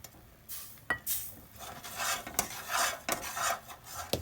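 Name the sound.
stirring jaggery while cooking it in a pan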